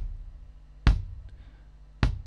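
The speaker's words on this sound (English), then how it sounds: "the outside microphone gives us a duller, more bassy tone" Kick drum picked up by a microphone outside the drum in a BFD Eco sampled kit, two separate dull, bassy thumps with a soft attack and short low decay, alone.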